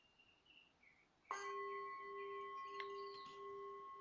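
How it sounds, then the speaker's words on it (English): A meditation bell is struck once and rings with a bright, sustained tone that hangs steadily in a quiet room, after a few faint, soft sounds just before the strike. "With the strike of the bell, we listen beyond the ears."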